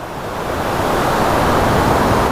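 A roadside waterfall near Valparai gives off a constant, loud wash of rushing water, close and unbroken from start to finish, with no voices.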